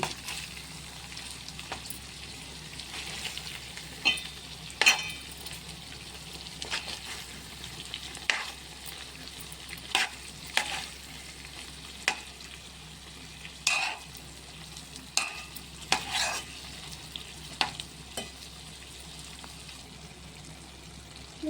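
White brinjal masala sizzles steadily in oil in a pan while a utensil stirs it, with repeated scraping strokes over the continuous frying hiss, close and moderately loud, no talk.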